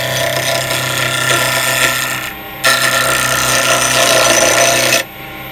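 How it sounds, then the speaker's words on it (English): A wood lathe spins a laburnum pen blank with a loud, steady mechanical whir and scraping, briefly dropping out midway before resuming, then stopping near the end. "Speed the lathe up a little bit."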